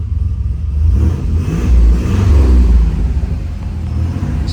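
A 1989 Pontiac Turbo Trans Am engine idling just after a cold start, a steady low rumble that swells briefly as it revs a little, close and fairly loud with no voices.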